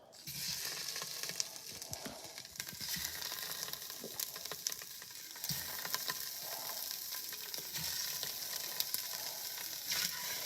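Sausages browning in a little oil in a pan give off a steady, close sizzle, broken by occasional clicks and light scrapes as they are moved; no one speaks.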